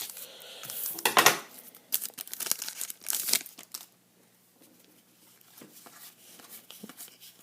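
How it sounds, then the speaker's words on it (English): Hockey card pack wrapper crinkling and tearing open with scissors, loud bursts of plastic rustle and snipping early on, fading to quieter rustling afterward. "I'll use my scissors for this one."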